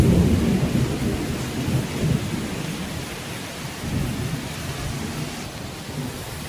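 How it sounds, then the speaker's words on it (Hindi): A heavy downpour pours steadily, with deep thunder rumbling underneath in low, rolling swells. The rain's dense hiss stays loud and continuous, and no one speaks. "आप देख सकते हो कितनी ज़ोरों की बारिश हो रही थी"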